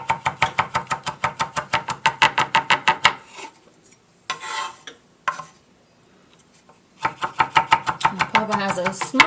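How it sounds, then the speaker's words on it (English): Rosemary being chopped with a small herb knife on a board in a home kitchen: rapid, steady knocking bursts of close, crisp blade strikes, broken by a short pause with some scraping before the chopping resumes. "has a smaller little chopping knife for the herbs"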